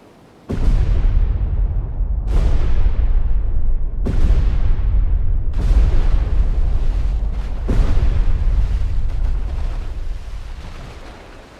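Depth charges from a destroyer in the naval video game Destroyer: The U-Boat Hunter, fired in a shallow pattern in icy waters, explode as five loud, deep booms about every two seconds, each rumbling away before the next.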